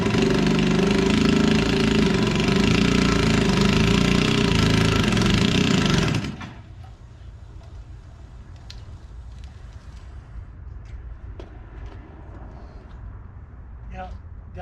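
A REO Trikeabout small engine running with no muffler, a harsh, loud, buzzing roar for about six seconds that cuts off abruptly, leaving quiet room tone with a few faint clicks and knocks.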